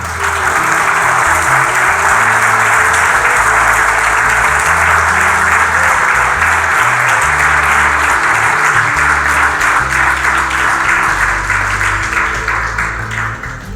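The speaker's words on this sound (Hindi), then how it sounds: "जोरदार ताली बजाएं" A congregation at a church sermon on Holy Communion claps loudly and continuously, a dense sustained applause that fades slightly at the end.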